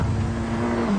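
Skoda works rally car driven by Pavel Sibera, engine droning steadily and close up with a sustained mid-pitched tone that steps up briefly near the end, no speech over it.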